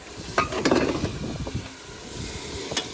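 Fish curry with chili and turmeric cooking in a pan, a soft continuous sizzle with occasional clinks of a stirring utensil against the pan, close and moderately loud, no talk.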